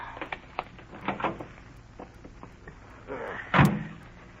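Car door shutting in a classic mystery radio drama, a sharp solid thump near the end after some quieter shuffling and handling sounds, with no voices over it.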